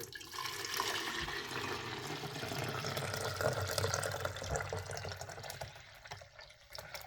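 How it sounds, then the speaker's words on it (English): Water drains steadily out of a slush machine after its clean cycle, a continuous rushing, gurgling flow like a tap filling a pitcher, close and unbroken for several seconds with no voices. "And then we'll drain it all out, hopefully back into that pitcher."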